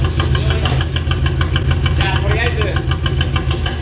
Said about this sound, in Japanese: このエンジンかけてみようか。